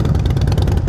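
A Harley-Davidson motorcycle engine rumbles close and loud with a steady low throb, idling or lightly revving, alone without talk.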